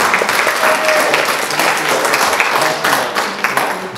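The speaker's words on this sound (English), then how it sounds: "A round of applause in this fine institution." An audience at a public budget hearing applauds steadily for several seconds, a dense wash of many hands clapping at fairly close range.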